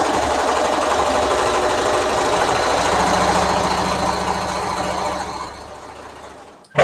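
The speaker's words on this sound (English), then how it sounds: "lots of long strips of sewing" A sewing machine stitches long fabric strips for a quilt, running in a loud, steady mechanical whir that holds for several seconds before slowing and stopping near the end, with no voices.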